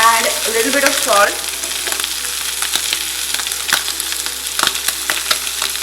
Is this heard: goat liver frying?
yes